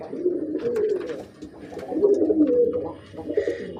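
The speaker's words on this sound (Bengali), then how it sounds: "দেখেন কবুতরগুলো কি সুন্দর," Pigeons, including a Jalali pigeon, cooing in a coop where birds are nesting on eggs, making repeated rolling coos in close, uneven bursts with faint rustling between them.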